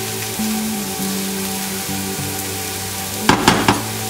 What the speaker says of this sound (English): Now I'll add in my cauliflower rice. Give it a good mix.